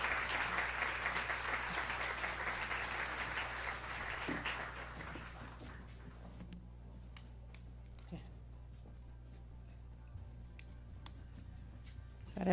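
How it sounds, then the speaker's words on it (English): An awards ceremony audience applauds as honorees walk onto the stage. Loud, full clapping for about five seconds thins out into a few scattered claps and ticks over a low steady room hum. "Let's give them a round of applause as they're all coming on stage."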